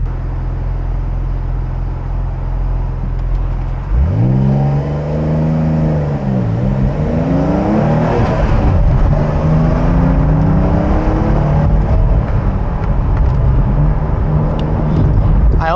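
A Porsche 911 992 4S with a seven-speed manual gearbox revs hard while driving, engine pitch climbing through a gear, dipping on a shift and rising again, loud and close from inside the car.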